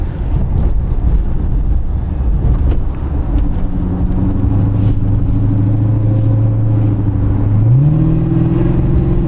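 A 2006 Dodge Charger RT with a 5.7 V8 HEMI rumbles loudly at idle, then revs up with a rising, steady engine drone heard up close and alone.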